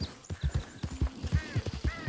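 A horse carrying a dead animal on its back walks with close, rhythmic hoof clip-clops in Red Dead Redemption 2, the steps evenly paced and clear, with no talk.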